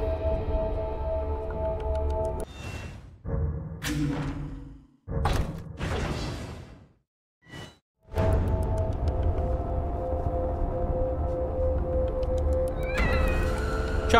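A cat in a survival horror video game meowing several times, loud drawn-out yowls broken by short silences and thumps, then a steady background drone.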